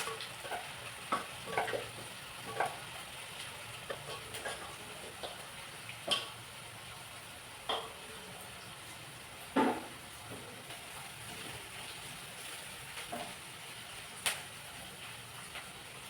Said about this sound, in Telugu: అలా చికెన్ ముక్కలు కలుపుతున్నాము